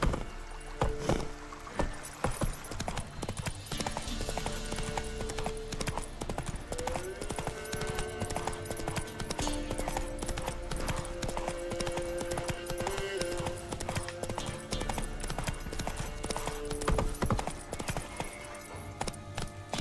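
Hooves of Roach, a horse in The Witcher video game, clip-clop in a steady, continuous rhythm at moderate distance over ambient game sound, with faint tonal music in the background.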